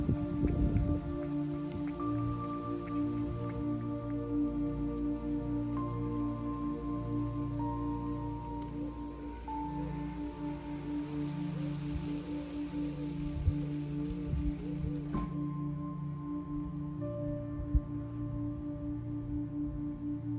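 Steady rain pours onto a garden table and surrounding surfaces, pooling into droplets, a dense close patter with scattered louder drips and a constant low background hum, no voices.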